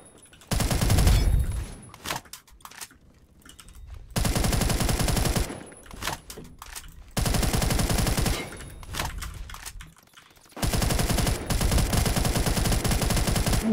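Rifle gunfire in a first-person shooter video game, an AK-style gun with strong wall penetration, comes in loud sustained bursts separated by short quiet gaps, with no talking over it.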